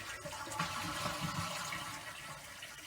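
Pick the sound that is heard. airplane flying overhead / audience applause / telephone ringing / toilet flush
toilet flush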